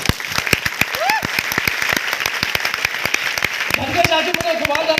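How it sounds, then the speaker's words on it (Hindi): An audience at a motivational talk bursts into vigorous applause, with sharp individual claps standing out over a continuous wash of hands and a few voices calling out near the end. "एक भाई के लिए जोरदार तालियां।"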